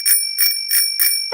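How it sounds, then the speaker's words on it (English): Four bright metallic rings of a cartoon bicycle bell from Peppa Pig, evenly spaced and sharp, each a short clear ding with no voices over them. "Ringing your bell lets others know you are there."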